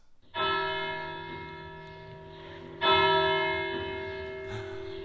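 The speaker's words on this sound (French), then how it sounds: "Trois fois, trois coups de cloche" A church bell rings the Angelus, with loud resonant strokes that each swell and slowly fade; a second strong stroke follows a few seconds after the first and a fainter one comes near the end, with no talking.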